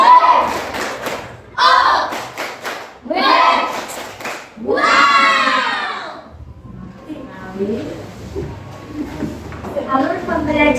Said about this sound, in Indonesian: seperti kelompok 1 dan 2 kita kasih tepuk wow dulu.